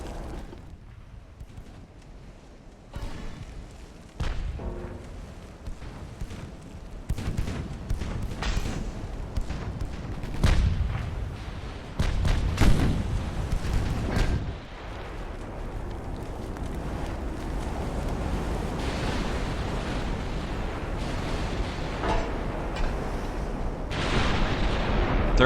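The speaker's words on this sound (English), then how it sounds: "Looks like all my ships except for the lead ship are firing on this guy." Battleship guns of a fleet firing in Ultimate Admiral: Dreadnoughts: a series of irregular heavy booms, some close together, over a constant windy, sea-like rush that stays loud and steady toward the end.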